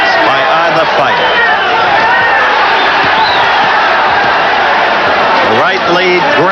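A boxing crowd at a world junior light flyweight title bout roars excitedly, a dense, loud and sustained wall of cheering and whooping with rising shouts, under a commentator talking throughout.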